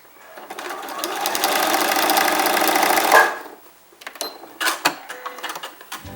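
A sewing machine runs steadily for about three seconds, stitching diagonally across pinned patchwork fabric, then stops, leaving a few faint clicks and handling noises.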